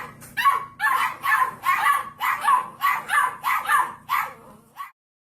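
Puppy barking in a quick series of about nine sharp, high yips at a steady rhythm, close and clear, then silence.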